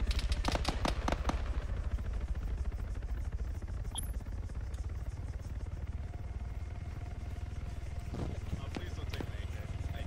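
Gunfire in the game Arma Antistasi: rapid bursts of automatic fire open the scene, followed by scattered single shots and more bursts over a constant low engine-like hum, with people talking throughout.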